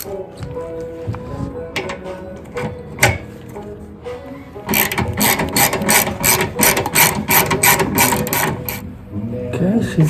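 A ratchet tightening the clamp bolt that holds a muffler to the header pipes on a 2019 Indian Chieftain Limited motorcycle: soft tool handling first, then a close, steady run of rapid mechanical clicks lasting several seconds.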